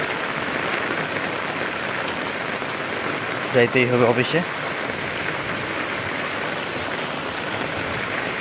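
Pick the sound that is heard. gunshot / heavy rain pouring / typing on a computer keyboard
heavy rain pouring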